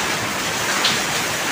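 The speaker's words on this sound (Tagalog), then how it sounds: "kusuga na jud kayo ang hangin ug ang ulan" Dense, steady roar of heavy rain with a broad hiss throughout, mixed with gusting wind from Typhoon Odette; no voices.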